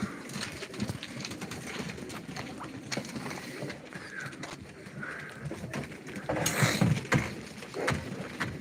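Pigeons at a live pigeon auction: soft cooing and wing flutters amid handling noises and rustling, with a louder burst of flapping near the end.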